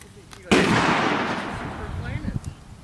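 A single sharp gunshot from a gun firing hot loads at a shooting range, loud and close, with a long decaying echo and voices murmuring afterward.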